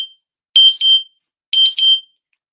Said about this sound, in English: my phone seems to always do the alarm